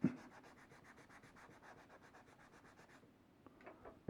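A t-shirt rag scrubs over a rusty gun barrel resting on a desk, giving a steady rapid back-and-forth rubbing that runs for about three seconds before stopping, followed by a few faint light knocks.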